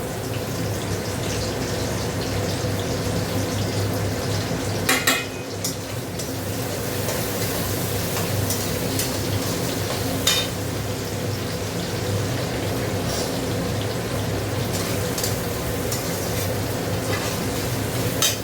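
Chopped ginger, garlic and onion fry in a pan, producing a constant loud hissing sizzle that holds steady for the whole stretch, close by, with a few sharper crackles.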